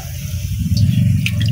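Liquid pours into a pot of shing fish curry cooking over a clay stove, a steady, close, fairly loud watery rush with a low rumble underneath and a few small drips near the end.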